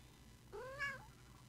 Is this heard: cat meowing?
yes